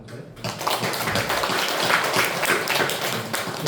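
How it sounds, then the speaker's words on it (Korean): A congregation claps together during a church worship service. The clapping begins after a brief quiet moment and turns into a continuous, lively patter of many hands at close range. "박수 한번"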